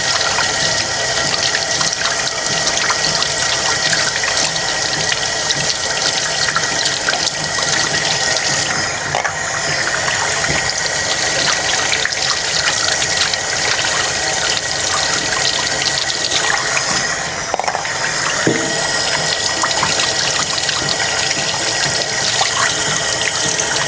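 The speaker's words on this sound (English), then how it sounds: "take our 4 flour cups, get them clean, rinsed." Four flour cups being rinsed clean under a steadily running tap, a continuous hiss of water splashing into a sink with occasional light clinks, close and alone for the whole stretch.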